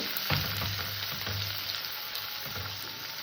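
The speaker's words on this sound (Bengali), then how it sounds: "পেঁয়াজটা আমি হালকা সোনালি করে ভেজে নিচ্ছি" Chopped onion frying in hot oil for a cauliflower curry, a steady close sizzle with a few soft stirring scrapes, heard alone without speech.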